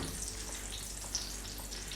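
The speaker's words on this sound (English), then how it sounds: "I put some oil in the pan and I started frying a couple of them" Oil fries in a pan with a steady, close sizzling hiss that holds evenly throughout, with no talking.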